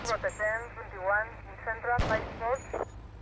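A Python .357 pistol in GTA Vice City fires a single sharp, loud shot partway through, with someone talking over most of the moment.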